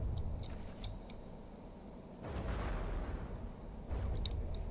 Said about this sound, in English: Looked like a big internal explosion there.